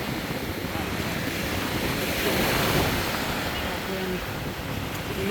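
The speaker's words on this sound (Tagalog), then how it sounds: "Ang lakas ng alon, no?" Strong sea waves surge and wash continuously at a beach in Noja, Cantabria, Spain, a loud broadband roar with wind noise buffeting the microphone, rising slightly midway.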